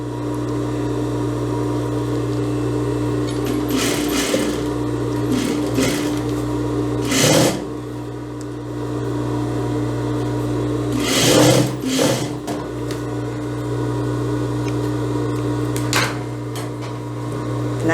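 A sewing machine stitches a narrow double-folded hem on an eyelet (lese) blouse, running steadily for the whole stretch with a constant motor hum and short louder bursts of stitching, close and alone.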